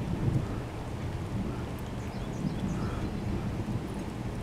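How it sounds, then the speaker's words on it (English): Long, low rolling thunder rumbles continuously through a rainstorm, a dense steady roar filling the low end with steady rain hiss above, no voices. "A lot of long thunder."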